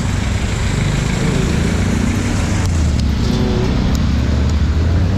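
Steady private-vehicle traffic on Elliptical Road in Quezon City, a continuous loud engine and tyre rumble close by with no distinct passes standing out.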